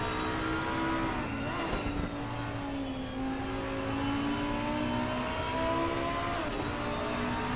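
Lamborghini race car engine in a sim racing game at Kyalami, heard from the cockpit as a loud, steady high-revving drone with brief dips and swells as gears shift, running alone throughout.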